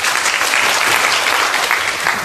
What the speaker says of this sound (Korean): 모두 박수로 맞이해주시기 바랍니다.